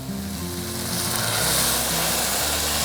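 Stir-fried chicken and vegetables sizzle loudly in a hot pan just after soy sauce and rice vinegar are added, a continuous crackling hiss that swells partway through, with no talk over it.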